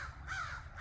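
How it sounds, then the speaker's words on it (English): A single crow gives a short, harsh caw at moderate distance over a low background rumble. "crows."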